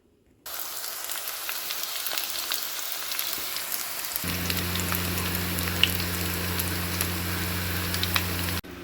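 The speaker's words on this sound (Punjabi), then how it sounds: "ਇੱਧਰ ਆਪਣੇ ਕਰੇਲੇ ਫਰਾਈ ਹੋ ਰਹੇ ਨੇ" Sliced bitter gourds fry in hot oil with a steady, dense sizzle that continues alone, and a low hum joins partway through.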